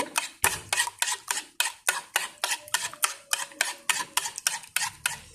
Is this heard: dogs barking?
no